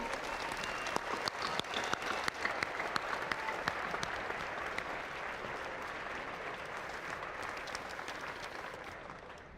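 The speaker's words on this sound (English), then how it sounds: "We give a big round of applause to those who serve Spanish Fort" Audience at an evening flag retirement ceremony applauds local first responders, a steady, dense wash of many hands clapping that holds for the whole stretch and eases slightly at the end.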